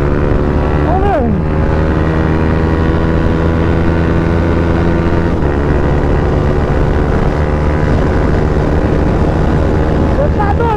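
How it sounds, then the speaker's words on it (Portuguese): A Honda CB Twister 300 motorcycle fitted with an Athlon ECU runs at high speed, its engine droning steadily and loudly as it holds high revs, with wind noise and a brief rise in pitch near the start and end. "A moto tá correndo pra porra"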